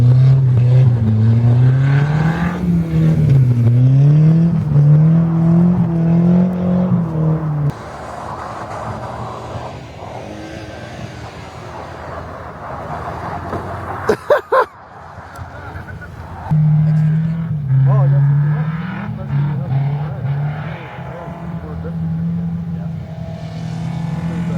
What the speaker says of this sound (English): Whoa, look, he's going again. Nice, smooth,